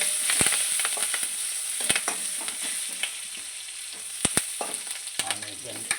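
Cumin seeds and curry leaves frying in hot oil for a mutton curry, a continuous fine sizzle with sharp crackling pops scattered throughout and the scrape of stirring in the pan.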